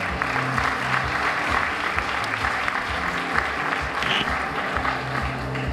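An audience at a teacher of the year celebration applauds a teacher, with dense, steady clapping from a sizable crowd lasting the whole time, loud and continuous with a faint murmur underneath.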